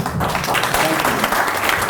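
An audience applauds Arthur Kopit at an evening event, with dense, steady clapping from a full room throughout the brief moment.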